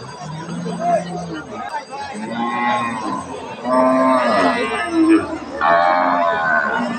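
A dairy cow at a rural cattle market in Kaharol moos several times in long, loud calls, with crowd chatter and babble running underneath throughout.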